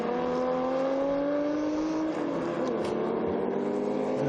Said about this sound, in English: the Chevrolet doing what Chevrolets do, sounding lovely as he puts the power down